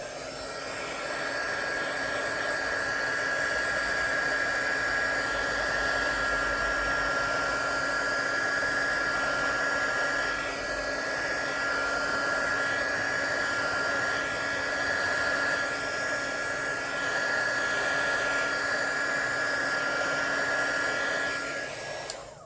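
A heat tool blowing hot air onto paint in an art piece whirs in a steady, close, continuous hum with a high whine for over twenty seconds, with no speech.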